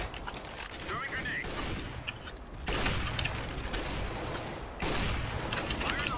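Counter-Strike: Global Offensive gunfire crackles in rapid, dense volleys throughout, loud and close, with the sustained bursts pausing briefly between engagements.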